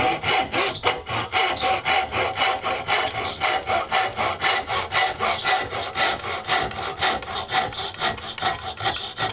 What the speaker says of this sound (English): This is a tenon saw, specifically designed for cutting tenons and cutting these half joints that I'm doing here.